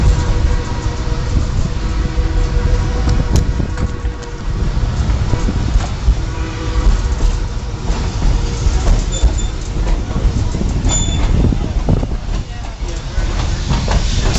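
A passenger train rumbles steadily along a bridge, the low heavy roll close and continuous, with wind buffeting the microphone throughout and a few faint squeals above.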